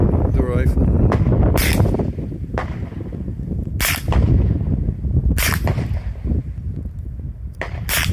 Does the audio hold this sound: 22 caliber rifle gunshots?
yes